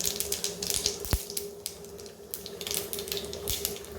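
Mustard seeds splutter in hot oil for a beans and lentil usili, with rapid crackling pops scattered densely throughout, close and fairly loud, plus a couple of sharp knocks.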